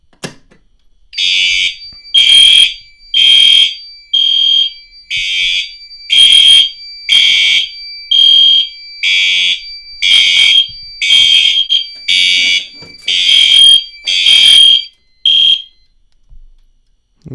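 A building fire alarm system sets off after a manual pull station is pulled, giving loud, repeated horn blasts, about fourteen evenly spaced pulses, close and alone before stopping.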